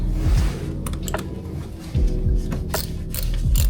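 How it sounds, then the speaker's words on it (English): A ratchet with an 8mm socket loosens bolts on a Miata engine intake hose, giving close, quick bursts of clicking pawl strokes in three or four separate runs with short pauses between them. "We're gonna use an 8mm socket for this."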